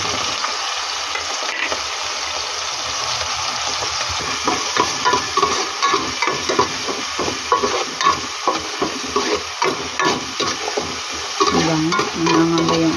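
Ginger and lemongrass sizzle steadily in a little hot cooking oil for a home-cooked chicken tinola, a constant frying hiss with repeated stirring scrapes and clacks growing busier toward the end, close and alone.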